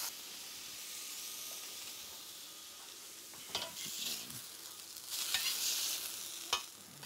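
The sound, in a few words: fish frying on a griddle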